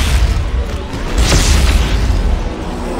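Mjolnir weapon firing in Dead Space 3, a loud, deep, rumbling blast sustained over a few seconds, with a brighter burst near the middle.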